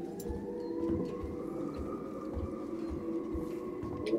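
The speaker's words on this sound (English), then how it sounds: "I hear police sounds, sirens on the space station." A wailing siren tone on a space station in Alien: Isolation holds steady for several seconds, layered over a busy, rumbling electronic game soundscape with faint thuds.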